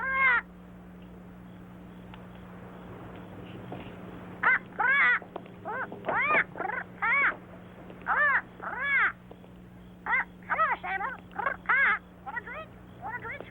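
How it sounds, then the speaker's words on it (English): Crow cawing in a series of loud, harsh squawks, some single and some in quick pairs and triplets, over a steady low hum. "Put a lid on that bird."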